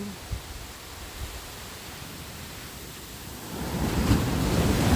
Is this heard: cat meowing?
no